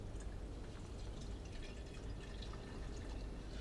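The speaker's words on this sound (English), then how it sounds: "Let's just add our boiling water." Boiling water poured into a teapot over Lotus Leaf Tuo Cha tea, a continuous low gurgling stream with faint splashes that holds steady for several seconds.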